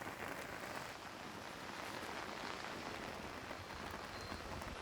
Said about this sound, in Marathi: जोरदार पावसाला सुरुवात जी आहे ती पुण्यात झालेली आहे